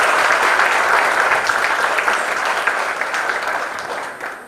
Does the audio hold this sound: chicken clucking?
no